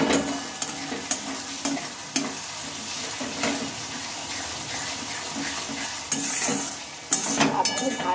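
Spice masala with chopped tomato being stirred and fried in a pan, producing a close, steady sizzle broken by repeated scraping strokes of a spatula and a few sharper knocks against the pan.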